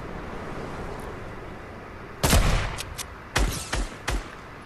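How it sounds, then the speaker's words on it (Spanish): Gunfire in the Fortnite battle royale video game, heard as several sharp shots after a quiet windy stretch: one loud burst followed by a few more cracks at irregular intervals, moderately close. "A ver, escucho disparos por aquí."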